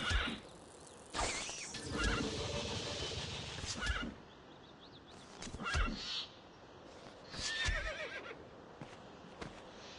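Horse neighs and whinnies in The Bard's Tale video game, loud bursts repeated several times over a rough mix of game effects, with hoof-like clatter between the calls.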